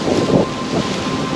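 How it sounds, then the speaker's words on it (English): Strong wind buffets the open outdoors near Bayer's Lake, a brief, loud, rumbling roar that gusts unevenly against the microphone, with no other sound. "Very windy."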